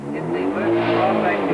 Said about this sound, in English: the roar of Sarel's Ford Laser attracts the attention of the lunchtime pedestrians